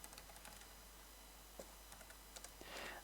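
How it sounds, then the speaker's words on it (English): A command being typed on a computer keyboard: a quick run of light, close key clicks with short pauses and one denser burst near the end, no voices. "Let's type command xFreeRDP3"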